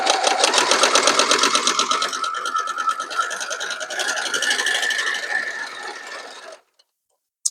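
A sewing machine chain-pieces quilt block fabric, with a rapid, rhythmic whirring close by whose pitch shifts slightly as it runs steadily for several seconds, then it stops abruptly into near silence.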